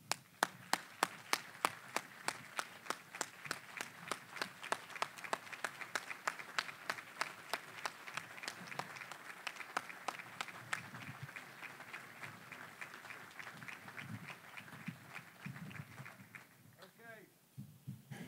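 An audience applauds to welcome the West Virginia Governor at an economic development announcement for a food packaging facility in Berkeley. Steady, crisp clapping runs for most of the stretch, then fades as a voice begins near the end.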